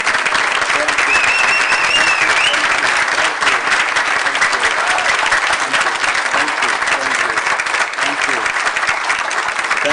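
At an annual award dinner, a standing audience gives Professor Malaku Lako a loud, dense round of applause, continuous thick clapping throughout with faint cheers and voices blended into the roar.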